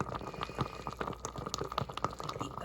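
Salt solution boiling on a stove, a dense bubbling simmer with scattered sharp pops and crackles throughout, steady and close, with no voices.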